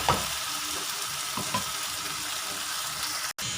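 Okra and minced keema fry in a pan with a steady, close sizzle, broken by a few soft stirring scrapes and one brief gap, with no voices.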